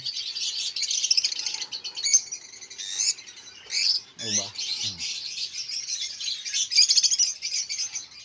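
Bright, rapid bird chirps and tweets keep going throughout, close by, while a person murmurs a few words.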